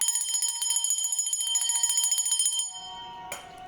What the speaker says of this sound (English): especially the bell sound